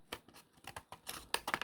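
A series of short, crisp snipping sounds close by, irregular in rhythm, getting louder toward the end.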